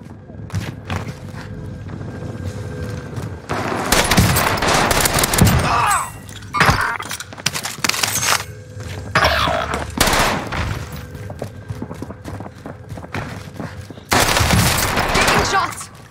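Rapid bursts of gunfire ring out in Warzone on Rebirth Island, with loud clusters of shots separated by brief lulls, punctuated by footsteps and game voice callouts.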